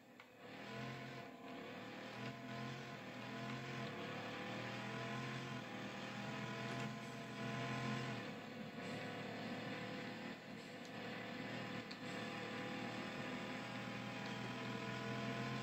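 Mercedes-AMG Black Edition engine accelerating, a loud continuous roar held steady for the whole stretch, heard close as if from inside or beside the car, with no talking.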